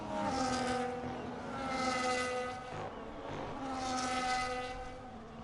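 Race cars drone steadily behind a safety car in a racing video game at Baku, Azerbaijan, their engines forming a loud continuous whine that swells and fades as the pack circulates.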